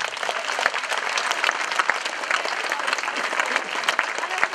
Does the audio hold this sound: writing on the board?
no